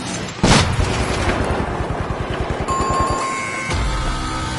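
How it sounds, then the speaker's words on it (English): A flashbang grenade in The Finals, a sudden loud bang followed by a rapid rattling burst and a high ringing tone that lingers, then a second thump near the end. "Throwing a flashbang."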